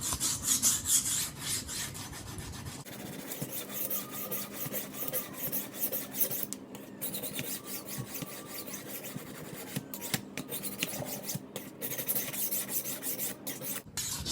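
A knife edge is rubbed back and forth across a flat sharpening surface, making steady rhythmic rasping strokes, close and continuous with brief pauses between runs.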